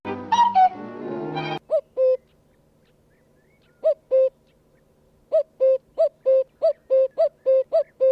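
A cuckoo calls repeatedly, its soft, hollow two-note hoots coming in evenly spaced pairs and runs after a short burst of other sound at the start, clear against a quiet background.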